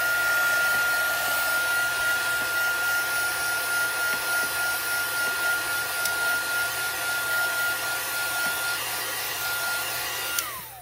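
A heat tool blows steadily to set waterproof ink for a jellyfish background, a continuous close whooshing hum lasting about ten seconds before it cuts off at the end.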